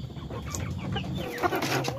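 Several KUB chickens cluck and murmur close by in a busy farmyard while being fed, with scattered bird calls over a low background hum.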